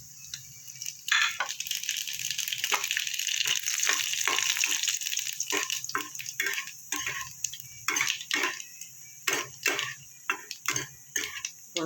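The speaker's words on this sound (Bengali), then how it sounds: "আমার গরম হয়ে গেছে, ফোড়নে দেবো কালো জিরে আর শুকনো লঙ্কা।" Black cumin seeds and dry red chillies are tempered in hot oil, giving a close, continuous crackle and sizzle broken by sharp popping bursts that thin out into scattered spits toward the end.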